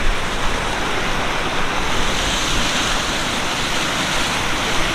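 River water rushing steadily into the sea through a shovel-dug channel on a beach, a continuous loud broadband wash of churning water and surf with no voices.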